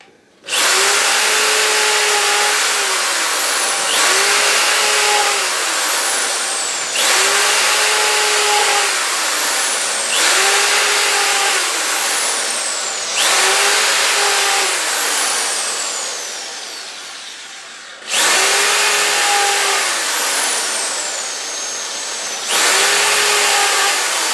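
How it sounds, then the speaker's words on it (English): A power drill drives into a pre-drilled pilot hole in wood for a bonsai staging, running loud and close in repeated long bursts that whine up to speed, hold steady, and stop briefly between runs. "drill's obviously going in really easy now because the pilot hole's already been drilled."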